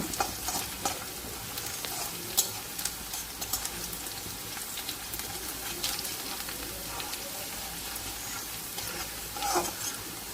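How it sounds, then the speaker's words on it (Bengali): Garlic, along with green chillies, frying in a pan over low heat until golden, giving a steady, close, dense sizzle that runs the whole time with no talk over it. "রসুনকে আমি একটু সোনালি রং করে ভেজে নেব"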